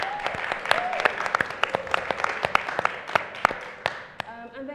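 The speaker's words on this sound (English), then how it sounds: "USW students on board, please give your president a round of applause" An audience applauds the student union president with scattered, uneven claps that rise and thin out across the room, carrying a faint background murmur.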